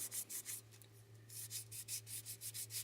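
Close, quiet rhythmic scraping of sandpaper rubbing back and forth over a small hard bracelet surface to dull its shine, about a dozen strokes with a brief pause midway.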